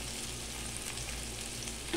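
Shrimps with vegetables frying in a pan, a steady close sizzle with light stirring scrapes and no talking.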